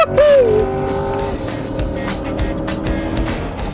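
A 2020 Corvette C8 Stingray, a mid-engine car, accelerates hard out of a corner onto a race track straightaway, its loud engine note rising in a steady climb with brief tire noise, close and continuous.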